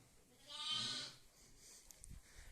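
A single drawn-out bleat from a sheep or lamb, fairly close, followed by quieter farmyard background and a faint low thump.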